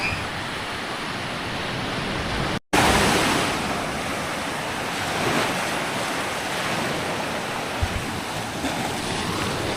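Sea waves wash onto a beach in a steady broad roar of surf, loud and continuous with some wind noise on the microphone and a short dropout, and no voices.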